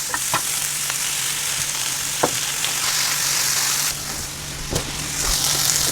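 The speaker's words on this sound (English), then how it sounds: "we will throw in our bok choy and our eggplant" Bok choy and eggplant fry in a pan over medium-low heat, a steady close sizzle with occasional clicks and stirring scrapes.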